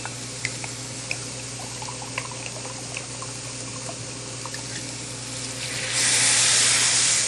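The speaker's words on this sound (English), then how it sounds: "I'm going to add a half a cup of dry white wine." Mustard greens and collards simmer with a low crackle and scattered pops, then dry white wine is poured in near the end, bursting into a loud, bright hiss of steam; no talking.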